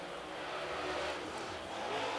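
A super late model race car at Cherokee Speedway qualifying sets into turn one, a loud, steady broadband engine roar sustained throughout without any talk.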